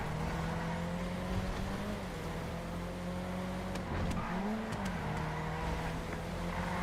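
Racing car in the Down Town video game, a steady engine drone with sustained tonal hum and a brief pitch dip mid-run, close and continuous with no talk.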